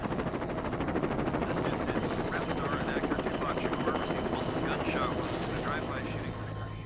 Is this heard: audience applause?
no